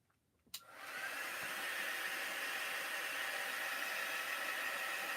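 A heat gun clicks on and then blows hot air in a steady, loud, even hiss that holds to the end, with no voices.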